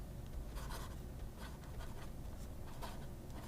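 A fountain pen with a toothy scribble nib scratches across paper in a continuous, close, sandy scratching with small bursts of emphasis, quiet and alone.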